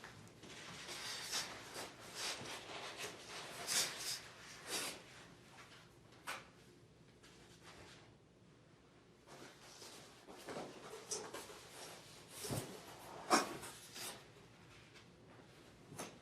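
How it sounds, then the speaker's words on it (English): A Wittenborg 9100 coffee machine is unpacked from its box, with scattered soft scrapes, rustles and squeaky rubs of foam pieces and cardboard, quiet and close, coming in irregular bursts with pauses. "Open the top of the box and remove all foam pieces covering the machine."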